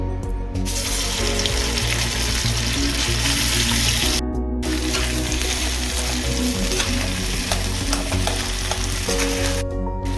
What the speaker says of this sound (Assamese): এতিয়া কেৰাহীত মই নামমাত্ৰ অকণমান মিঠাতেল গৰম কৰি লৈছোঁ আৰু এতিয়া আমি আলুৰ যিটো পেষ্ট ৰেডি কৰি লৈছিলোঁ সেই পেষ্টটো মই ধুনীয়াকৈ দি দিম